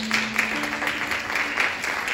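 A church congregation claps during a Christmas morning service, steady moderate applause heard at some distance with a faint tone beneath it.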